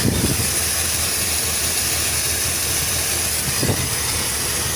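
A 1988 Dodge D350 tow truck engine runs loud and steady just after a cold start, a constant rumble mixed with hissing noise, with fuel leaking from the engine.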